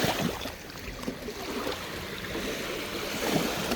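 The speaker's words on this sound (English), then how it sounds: "the beach is constantly getting changed by the waves" Waves wash over a sandy lake beach, a steady broadband rush with soft surges of surf rising and falling, close and fairly loud with no voices.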